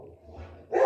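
A pet dog lets out a single short, loud bark near the end, breaking a quiet stretch of low room hum.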